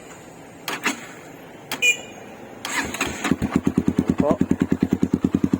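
Honda XR200 motorcycle fitted with a GP Creed open pipe exhaust starts after a few knocks, then revs in a steady run of sharp, loud pulses close to the microphone, with someone speaking briefly.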